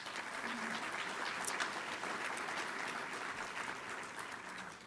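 An audience claps steadily and fairly loudly in a hall, applauding the companies that have made pledges. The sustained, dense clapping runs through the whole stretch with no speech over it.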